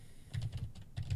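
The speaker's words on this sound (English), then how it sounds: "So I can also manually type a note." Typing on a computer keyboard, a short burst of quick, close key clicks in an uneven rhythm, with no voices.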